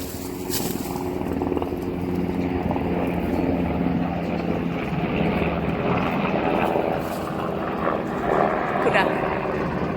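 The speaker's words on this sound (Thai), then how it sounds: "โอ้เสียงเครื่องบินแล้วพี่น้อง" An airplane drones overhead during a mountain foraging trip for seasonal vegetables, a steady broad roar that holds throughout while people talk over it.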